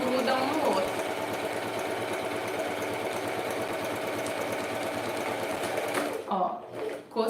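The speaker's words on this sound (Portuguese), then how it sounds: "costurei de um lado. E costurei do outro." A sewing machine stitches fabric for a wine bottle holder in a steady, fast, loud whirring run that stops near the end, followed by brief speech.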